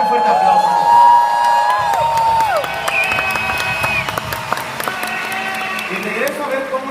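An audience at a Juanes event applauds and cheers loudly for a named guest, with sustained clapping, whoops and whistle-like tones running under scattered voices throughout.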